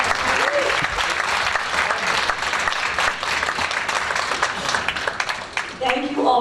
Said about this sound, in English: can we have another round of applause for our chamber choir?